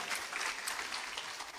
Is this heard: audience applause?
yes